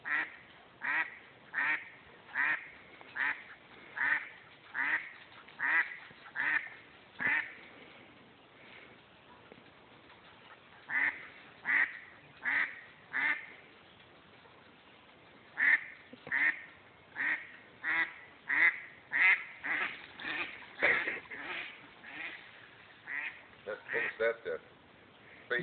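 A duck quacks at a Scottish terrier outdoors, giving loud, rhythmic bursts of quacks in clusters with short pauses between them. People talk quietly underneath.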